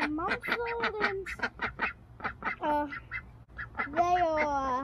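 Seven-month-old farm ducks quack loudly and close up in rapid, overlapping bursts, with a short pause before a final run of calls.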